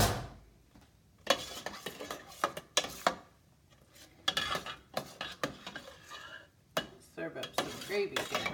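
Bacon gravy spooned out of a pan onto a split biscuit: scattered close clinks and scrapes of metal utensil against cookware, irregular and fairly quiet, with short pauses between.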